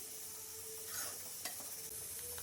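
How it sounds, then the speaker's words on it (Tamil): Cashews sizzle in hot ghee in a pan while being stirred, with soft scraping and a light clink, no voices. "முந்திரி பருப்பு பாதாம் பருப்பு இதெல்லாம் எடுத்து வச்சுருக்கேன் அதையும் இதோட போட்டு வறுத்துக்கிறேன்"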